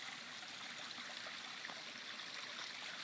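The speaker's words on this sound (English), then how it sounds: "But the flow is just beautiful. Very, very beautiful waterfall." A backyard waterfall flows in a steady, even hiss of splashing water, continuous and moderately faint with no other sounds.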